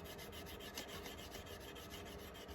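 A Salvinos JR model kit body of Cale Yarborough's 1979 Daytona 500 car gets sanded with the finer side of a two-sided sanding stick, a close, steady rhythmic rasp of quick back-and-forth strokes with no talking.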